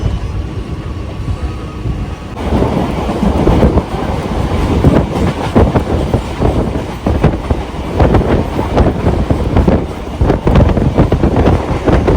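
A local passenger train runs along the track, its loud rumbling roar and rhythmic clickety-clack of wheels over rail joints filling the whole stretch, with wind buffeting the microphone and no talking.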